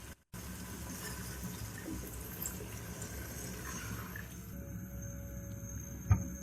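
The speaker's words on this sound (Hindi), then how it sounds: "अब हम इसके अंदर पानी ऐड करेंगे।" Water poured into a pot of soaked chana dal on a kitchen stove, a steady splashing fill running for several seconds before tapering off, with a brief clank near the end.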